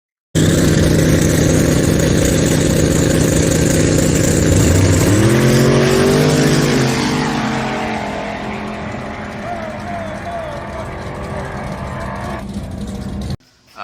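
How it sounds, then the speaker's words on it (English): A big block Chevy drag race car with two nitrous kits roars loudly at full throttle, its engine pitch climbing sharply as it accelerates away, then fading into a more distant drone before cutting off. "Big block Chevy, 2 kits and nitrous."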